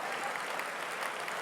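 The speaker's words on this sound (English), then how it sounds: "Let's give everyone a round of applause" A large crowd of about 1,500 at an evening awards ceremony gives a sustained round of applause, a dense, even wash of clapping at moderate distance.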